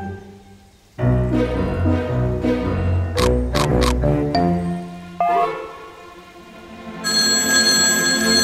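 A telephone rings in a cartoon scene from Masha and the Bear, its repeated bell tones standing out loudly over an animated soundtrack with music and effects.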